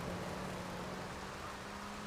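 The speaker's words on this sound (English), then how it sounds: "Rain is not ideal" Steady rain in the video game GTA3, a dense, even hiss of falling water that holds constant throughout, fairly quiet, with a faint low tonal hum running underneath.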